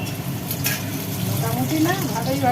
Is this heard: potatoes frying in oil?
yes